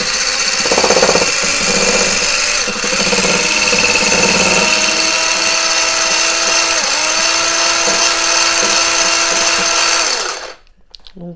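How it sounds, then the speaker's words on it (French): An electric whisk whips mayonnaise in a bowl with a loud, steady, high-pitched motor whir that runs for about ten seconds, then cuts off abruptly. "je prends mon fouet et je vais commencer à mélanger"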